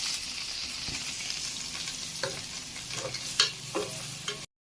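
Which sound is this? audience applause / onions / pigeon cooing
onions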